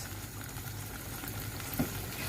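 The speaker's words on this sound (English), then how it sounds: "so that has started to sizzle" A soft, steady sizzle of spices frying in sauce for frejon in a pan, a low continuous crackle with a brief small clatter near the end.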